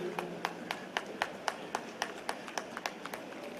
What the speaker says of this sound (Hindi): जोरदार तालियों के साथ आप उनका एहतराम जरूर करें